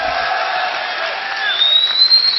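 Crowd at BlizzCon 2010 cheering and whooping for StarCraft II Protoss player NEXGenius, a loud sustained roar of many voices with rising shouts near the end.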